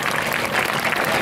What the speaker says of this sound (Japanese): みんなの手拍子で応援を送ってあげてください